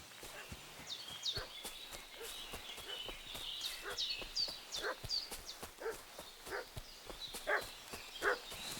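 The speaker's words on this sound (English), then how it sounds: "What's that dog making such a fuss about?" A dog barking in Kingdom Come: Deliverance 2, repeated sharp barks at mid distance over outdoor game ambience with birds and footsteps, no talk.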